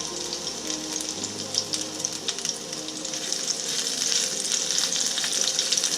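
Chopped onions sizzle and fry in a hot pan for fried rice, a steady crackling hiss that grows slightly louder and busier as it goes, heard close up with no talking.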